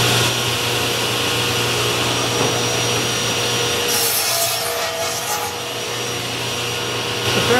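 Wood boards are cut for bee nuc boxes in a workshop, a steady close mechanical whir with rasping cutting noise and a dust-collector hum, continuous and fairly loud with no talking.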